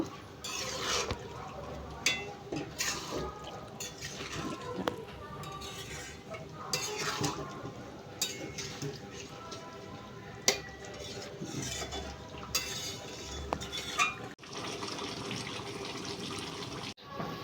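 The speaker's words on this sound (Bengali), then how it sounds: "যে মাটনটা আমি সেদ্ধ করেছিলাম সেই জলটা সেদ্ধ জলটা আমি দিয়ে দিলাম মশলাটা আস্তে আস্তে ভালো করে কষিয়ে নেব" Spices for mutton curry are stirred and fried in a pan with the mutton's boiling water added, giving a steady sizzle under repeated scrapes and clinks of a spoon against the pan.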